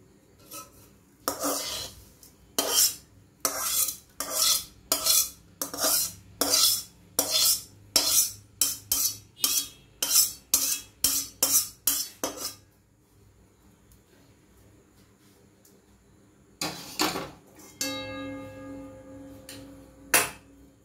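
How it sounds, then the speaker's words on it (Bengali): Metal spatula repeatedly scraping and clanking in a pan while rice is mixed with fried beans and carrots, a steady run of sharp strokes that stops, then resumes briefly near the end. "এবার এই ভাজাগুলোকে ভাতের সঙ্গে এড করব, ভাতের সঙ্গে মিক্সড করে নেব।"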